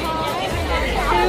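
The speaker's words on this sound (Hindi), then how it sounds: "यहाँ पे भीड़ है।" Crowd hubbub at a temple during Holi, with a steady babble of many voices filling the space throughout and people chatting nearby.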